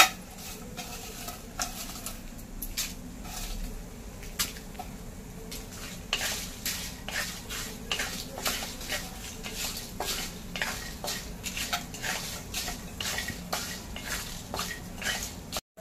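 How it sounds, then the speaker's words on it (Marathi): Green chillies roasting with peanuts in a pan for a garlic-coconut chutney, a spatula stirring and scraping steadily over a soft sizzle, with frequent close metallic clinks against the pan throughout. "आणि ह्या शेंगदाण्यावर आपण ह्या मिरच्या पण भाजून घेऊया।"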